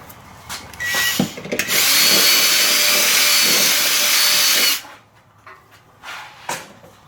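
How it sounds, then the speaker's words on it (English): A power drill widens a rivet hole while fitting a catalytic converter theft deterrent to a Toyota Prius, whirring steadily for about three seconds nearby, followed by a few knocks and clatters of tools. "Need a like slightly larger drill bit, maybe. I think I just need to wallow it out a bit."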